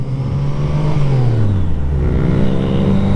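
A BMW K75s motorcycle pulls away in a wheelie, its engine droning loud and close with a steady pitch that climbs and shifts as it accelerates, heard alone without voices.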